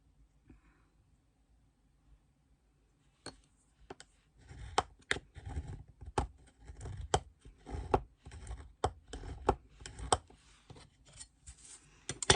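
Paper being creased into folds for a small Christmas mailbox: quiet at first, then a run of sharp scraping clicks and rubs in an irregular rhythm, close up and fairly faint.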